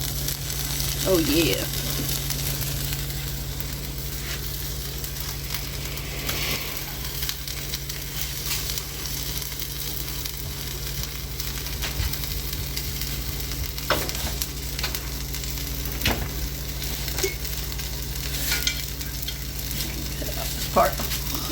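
Birria tacos fry in a pan with a continuous close sizzle and occasional scraping of a utensil, while a voice speaks briefly over the cooking and background noise.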